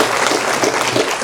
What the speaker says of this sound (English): Mack a round of applause.